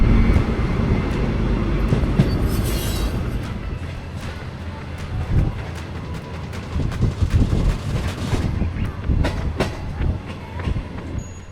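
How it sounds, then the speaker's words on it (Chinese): An old green-painted passenger train without air conditioning rolls along the rails through cornfields in Shandong, giving a loud, steady rumble from inside the carriage with rhythmic clickety-clack of the wheels growing busier toward the end, no talk. "离开兰村之后，列车仍然行驶在广袤的玉米地中。"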